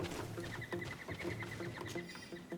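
A chicken in the game Greedfall, repeated quick clucks in a close, faint, steady patter with no talk.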